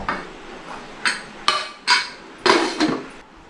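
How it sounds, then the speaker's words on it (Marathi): Several sharp metallic clanks and clinks of a pressure cooker lid being fitted on, irregular and fairly close, with quiet pauses between them. "कुकरचं झाकण लावायचं आणि गॅस पेटवायचा"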